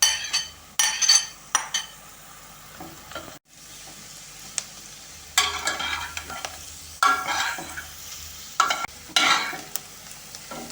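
Carrots and onions sizzle and stew in a pan, with intermittent stirring scrapes and light clinks of a utensil against the cookware.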